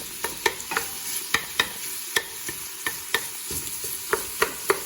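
Sausage and onions sizzle steadily in a pan while a spoon scrapes and stirs in a regular rhythm of sharp clicks, close and clear with no talking.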